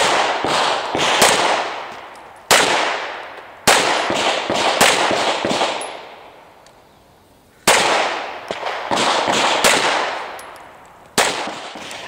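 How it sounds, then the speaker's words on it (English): Pistol shots ring out during an IDPA defensive shooting stage: loud, sharp reports come in quick strings with short pauses between them, each crack leaving a ringing decay. "This stage has the shooter fire six rounds with strong hand only, then weak hand only,"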